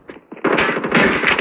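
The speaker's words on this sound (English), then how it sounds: "What type of gun was that? A stack gun." Video game gunfire in a close, loud burst of rapid repeated shots lasting about a second, with overlapping impacts and no talk over it.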